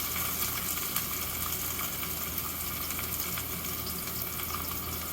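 Maitake mushroom pan-frying, pressed flat under a stainless steel stock pot: a steady, dense sizzle and crackle that runs evenly throughout without talk.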